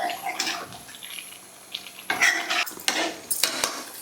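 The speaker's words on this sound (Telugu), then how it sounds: "సరే ఇప్పుడు వాటర్ పోసాను కదా, ఒక్కసారి కదిపి వదిలేస్తాను." A spoon stirs curry in a metal pot with water just added, giving soft scraping and a few sharp clinks against the rim in short bursts, close by with no talking.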